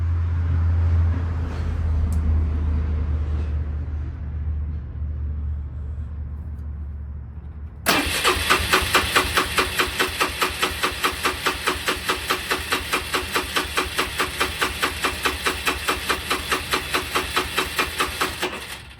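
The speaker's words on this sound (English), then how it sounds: "Now we're gonna go wide open throttle while cranking" A Polaris Sportsman 300 ATV engine cranking at wide open throttle during a compression test, a loud rapid rhythmic chugging that starts abruptly after a quieter stretch of low rumble and runs steadily to the end.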